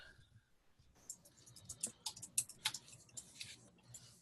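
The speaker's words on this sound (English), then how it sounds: "I can hear somebody typing" Quiet, irregular clicking taps like keys on a keyboard, a burst of close keystrokes in an otherwise hushed room.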